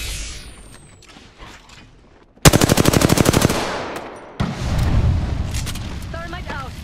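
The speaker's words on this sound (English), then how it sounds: "They're shooting at me." Rapid machine-gun bursts from enemies in the video game Apex Legends crack loudly in a fast, even rhythm, followed by a heavy blast and rumbling gunfire, with a player voice speaking around it.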